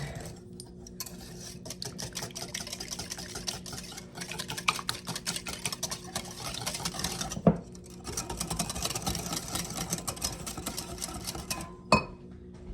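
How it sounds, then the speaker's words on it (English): A whisk beats egg and sour cream together in a bowl, a quick continuous scraping and clinking close by with a couple of sharper knocks against the bowl, and no speech. "we're just gonna whisk that all together until that egg and that sour cream are all incorporated and nice and smooth"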